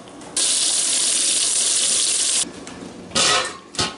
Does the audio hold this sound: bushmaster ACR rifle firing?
no